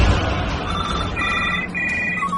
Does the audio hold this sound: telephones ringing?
yes